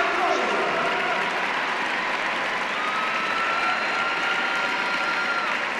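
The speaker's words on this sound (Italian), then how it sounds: "E gli applausi sono tutti per loro" Steady, dense audience applause fills an arena after a figure skating pair's performance at a European Championships gala in Bern, with a commentator talking over it.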